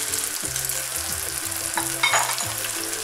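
Shrimp pieces and bisque sizzle steadily while being sautéed in a pan, a continuous crackling fry with a brief louder spatter midway as the mixture is stirred, with low pulsing tones from background music underneath.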